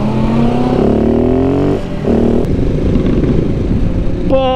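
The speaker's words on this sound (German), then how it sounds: "Boah, diese Fehlzündung, das ist doch nicht mehr normal, ey" Golden Audi R8 engine revving loudly with rising and falling tones, a short dip near the middle, then a sharp crackling backfire pop at the end.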